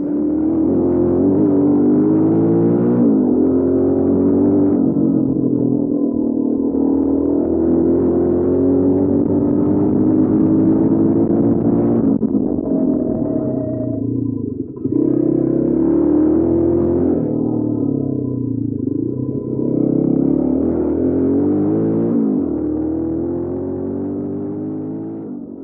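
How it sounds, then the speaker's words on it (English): A motorcycle ridden along a gravel road, its engine note climbing and falling through repeated revs as the rear wheel spins, loud and close with no voices. "there is now a pretty nice gravel road where I actually also can have wheel spin with this moto"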